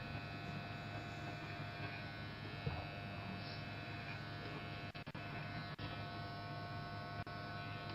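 Electric hair clippers buzz steadily and close through a woman's haircut, a constant low humming drone with a few brief dips as the blades move.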